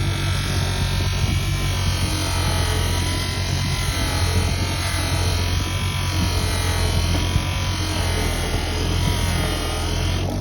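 A motorized buffing wheel loaded with green compound hones the bevel of a blade, a continuous close electric buzz and whir with no pauses.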